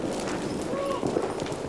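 A stunt horse gallops with clip-clopping hooves toward a wall of fire, the rapid hoofbeats close and steady beneath a narrator's voice.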